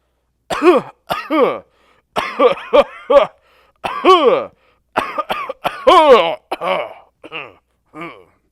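A man in a dramatic reading coughs in a run of short, harsh bursts, some spaced apart and some in quick clusters, loud and close, with no other sound between the fits.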